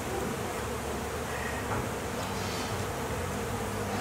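Honeybees buzz around an external hive built on a tree branch in Old Metairie, a dense, continuous close-up drone of many wings with no pauses and no talk.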